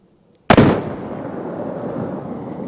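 A .22 Magnum round fired from a Heritage Rough Rider Tactical Cowboy revolver outdoors: a single loud, sharp bang close by after near silence, followed by a long rolling echo.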